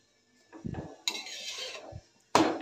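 Homemade hotel-style aloo naan set down onto a dish, heard as a few soft clinks and scrapes of metal cookware and plate contact, with short taps separated by quiet pauses and a louder clatter at the end.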